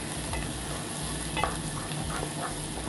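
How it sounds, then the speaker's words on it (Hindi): Ginger, garlic and green chili paste frying with onions in a pan for potato and pea curry, a steady soft sizzle with faint stirring scrapes throughout, no voices. "प्याज के साथ फ्राई करेंगे।"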